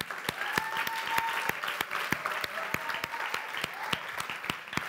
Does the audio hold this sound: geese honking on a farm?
no